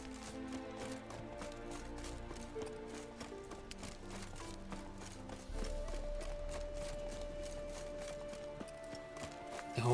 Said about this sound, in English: The horse can't catch up.